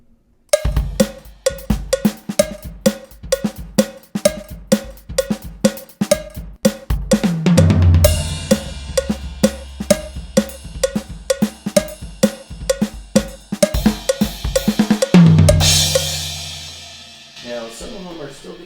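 An Alesis Nitro Mesh electronic drum kit plays a well-known drum break. Crisp, rapid hits form a steady busy groove, with crash accents landing around the middle and again near the end, heard up close with no talking.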